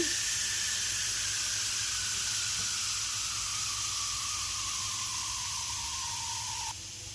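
Pressure cooker venting its steam pressure after cooking bottle gourd curry, a loud continuous hiss that holds steady for several seconds and then drops slightly in level near the end, with no talk.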